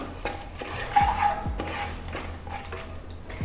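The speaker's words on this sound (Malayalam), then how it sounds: "ഇതിൻ്റെ ഒരു പച്ചമണം മാറുന്നത് വരെ ഒന്ന് മിക്സ് ആക്കി കൊടുക്കണം" A spoon stirs coriander powder through hot oil in a pan while cooking a lunchbox dish, giving soft intermittent scraping and clinks against the metal at close range, with no talking.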